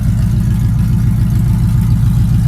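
A 1997 Dodge Ram 1500 V8 fitted with long tube headers rumbles steadily at close range, a deep, loud, throaty pulsing idle with no voices over it.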